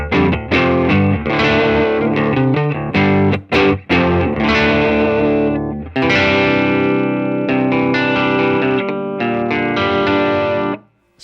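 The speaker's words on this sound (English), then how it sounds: "I'm gonna switch on my Sir Riot, which is kind of my stock distortion on my pedal board" Electric guitar played through a Sir Riot distortion pedal rings out in thick, sustained chords and riffs, loud and close, with brief gaps between phrases and no talking.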